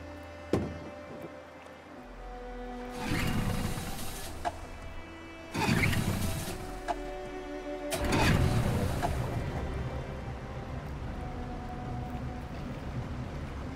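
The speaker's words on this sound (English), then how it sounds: "We're far enough out. We can use the engine." A boat engine starting in Detroit: Become Human, with several rough cranking surges and thunks building into a low, steady motor rumble over quiet background hum.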